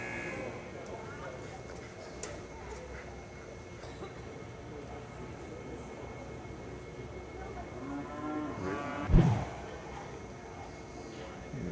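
Cattle herd at a cutting horse competition, with a single low moo rising near the end over steady arena background noise and faint hoof movement.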